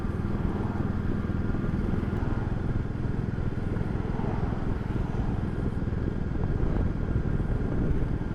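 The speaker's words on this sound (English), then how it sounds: "I'm back out on the bike" Royal Enfield 350 motorcycle being ridden in cold weather, a steady, continuous low engine drone with wind noise running unbroken throughout, close and fairly loud with no talking.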